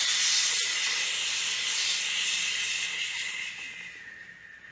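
A person blows out a long, forceful breath imitating a blizzard, a steady airy hiss that is loud at first and slowly fades over a few seconds, with no talking.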